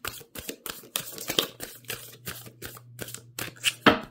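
Tarot cards are shuffled in quick bursts of riffling and slapping, close and fairly quiet, with a faint steady hum underneath.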